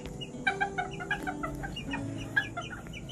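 A bantam chicken clucks in a quick, repeated series of short calls, fairly faint, with a low background hum underneath.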